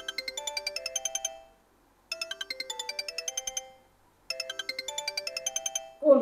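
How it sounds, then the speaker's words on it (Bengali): A mobile phone ringtone plays a bright, repeating melodic pattern in three bursts separated by short pauses, clear and fairly close, with no talk over it. "কোন ফোন বাজছে সেটাই বুঝতে পারছি না"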